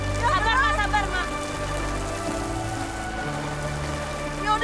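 Steady rain falls on an umbrella and the ground around people walking on a slippery path, a continuous dense patter with scattered drops, while voices talk faintly underneath.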